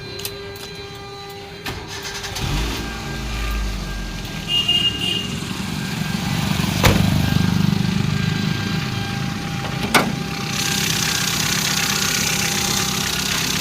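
A 2009 Hyundai Santro LPG and petrol car engine turns over and settles into a steady idle, a low rumbling hum with a couple of sharp clicks along the way.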